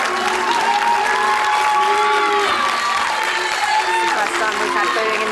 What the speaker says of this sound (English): We've had booing in the studio.